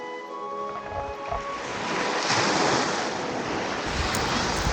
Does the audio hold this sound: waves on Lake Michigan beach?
yes